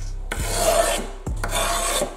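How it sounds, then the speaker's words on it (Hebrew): Sanding grip tape along the edge of a pro scooter deck, two long rasping strokes, each starting with a sharp scrape, close and loud with no talk. "עכשיו, כמעט סיימנו לשייף את הכל"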